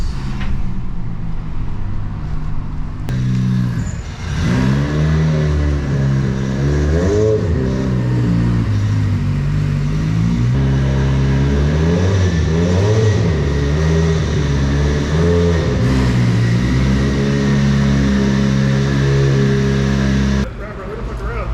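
An 800 HP turbocharged hatchback running a Subaru engine drives along with its engine revving up and down in loud, sweeping pitch changes, steady and close throughout, with faint voices at points.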